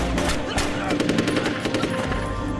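Rapid machine-gun fire and gunshots crackle through a film shootout with terrorists, dense and continuous bursts layered over a loud action soundtrack for the whole stretch.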